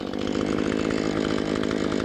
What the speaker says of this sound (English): I still haven't even got this chainsaw warmed up enough yet